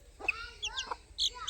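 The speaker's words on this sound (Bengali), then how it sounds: "অরিজিনাল ফাইটার মুরগির বাচ্চা রয়েছে এগুলো।" Young fighter-breed chicks peep in short, high, thin chirps, three or four separate calls at close range against a quiet background.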